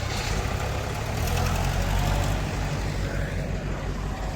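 Small tractor engine running steadily in a rural Punjab setting, a low rumbling idle with a faint knocking texture, close by and continuous.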